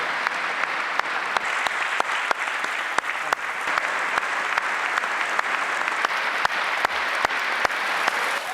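Sustained applause from a large audience in the chamber during a State of the Union address, a dense steady roar of clapping with occasional sharper claps standing out, loud and continuous throughout.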